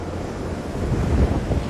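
Ocean waves on the rugged cliffs at Azenha do Mar on Portugal's Alentejo coast make a steady broad roar of surf, mixed with gusty wind buffeting the microphone and no voices.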